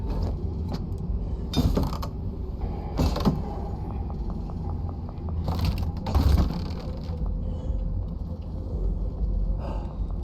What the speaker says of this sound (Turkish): Burada kapıyı da açabiliriz.